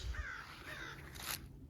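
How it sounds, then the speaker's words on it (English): A crow caws a few times, fairly faint and somewhat distant, over a steady outdoor background in a garden bed where kale is going to seed. "Hear that crow talking."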